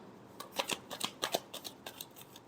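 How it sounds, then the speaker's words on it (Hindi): Tarot cards being shuffled by hand, a run of crisp riffling flicks and soft slaps in irregular bursts, close and fairly quiet with no talking. "Last shuffle."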